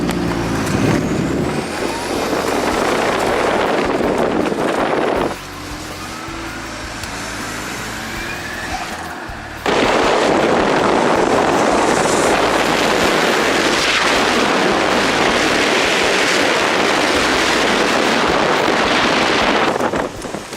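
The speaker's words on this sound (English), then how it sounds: "We're going for a test drive." A Merkur XR4Ti with a suspected leaking fuel injector on a test drive, a continuous loud engine and road drone with wind buffeting, dropping briefly in level midway before surging back up.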